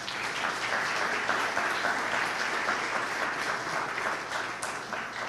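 A church congregation applauds steadily and loudly for several seconds, a dense wash of clapping with no voices standing out.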